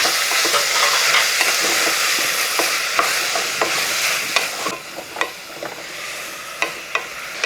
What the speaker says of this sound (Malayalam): അപ്പം നമ്മൾ ഈ കുക്കറിൻ്റെ അകത്ത് തന്നെ ഈ സവോള ഒന്ന് വഴറ്റി കൊടുക്കുക